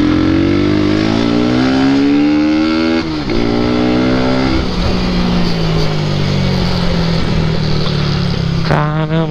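A car pulls away with a steady engine drone that rises in pitch as it accelerates, shifts gear, and keeps climbing, loud and close with no talk over it.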